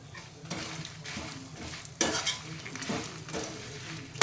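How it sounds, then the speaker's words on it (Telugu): Soaked tamarind frying in a pan for ginger chutney, a steady sizzle with a spoon stirring and scraping the metal in repeated strokes, close and clear. "చింతపండు నానపెట్టుకున్నాము కదా ఇందాక అది బాగా వేగ వేగనిద్దామండి"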